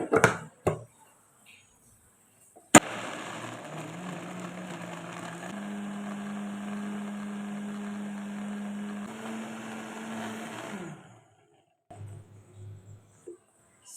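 A countertop blender whirs through a tiger nut smoothie of dates, banana and water, starting with a sharp click and a steady loud motor hum whose pitch steps up midway before winding down and stopping, with a few knocks after.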